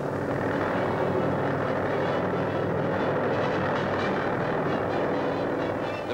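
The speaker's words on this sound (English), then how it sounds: "Hovering gently, the helicopter shows how it served in war and can serve in peace." A Sikorsky R-5 helicopter hovers gently in 1946 newsreel footage, its engine and rotor making a continuous, dense roar that stays even and close throughout, with no voices.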